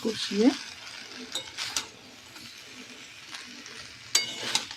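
Pumpkin curry with slit green chillies and cumin powder being stirred in a pan, metal spatula scrapes and knocks over a faint sizzle, with louder clatter at the start and near the end.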